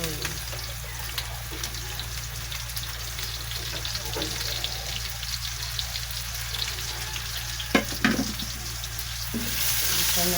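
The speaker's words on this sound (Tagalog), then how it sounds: "Lagay ko ng aking bawang sibuyas." Garlic and onion are sautéed in a pan while cooking bottle gourd, with a steady soft sizzle, a couple of louder knocks and scrapes near the end, and a faint voice under it.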